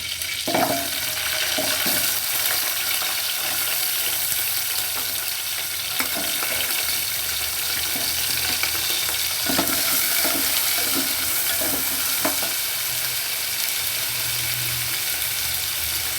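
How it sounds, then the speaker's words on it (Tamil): Onions, small shallots or large onions, sautéing in a pan: a steady broadband frying hiss with occasional scraping stirs, continuous and fairly close, with no talking. "வெங்காயம் சின்ன வெங்காயமோ பெரிய வெங்காயமோ வதக்கிக்கலாம்"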